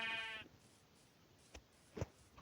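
A sheep in a video game lets out one short bleat at the start. Faint clicks and soft game noise follow in a quiet background.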